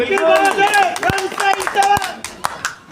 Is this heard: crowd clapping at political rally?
yes